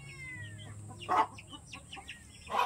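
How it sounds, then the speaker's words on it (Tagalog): A brooding hen clucks softly in a couple of short bursts against quiet rural outdoor background noise in the Philippines, with faint chirps scattered between. "Ang isa naming manok. Naglilimlim siya."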